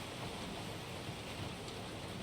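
Steady soft rain in a visual novel video game falls as a continuous even hiss, with no talking over it.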